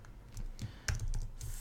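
Computer keys clatter in a quick, uneven burst of typing as text is entered into a YouTube thumbnail design, close and crisp with no voices.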